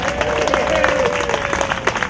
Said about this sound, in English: So let's hear a big cheer from you guys.